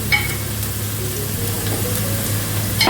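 Onion sautéing in hot oil in a pan for garlic rasam, a steady close sizzle and crackle running without a break, with a brief scrape of stirring near the end.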